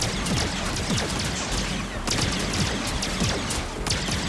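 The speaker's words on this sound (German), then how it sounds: "und werden schon wieder beschossen" Rapid bursts of gunfire crackle continuously in Star Wars Outlaws, with sharp repeated shots and clattering over a dense, busy background.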